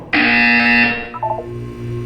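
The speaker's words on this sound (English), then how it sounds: "You will hear a buzzer." Loud electronic buzzer from the Portal 2 video game, a single harsh sustained tone lasting nearly a second, then cutting off into a few faint electronic blips and low hum.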